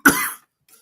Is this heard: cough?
yes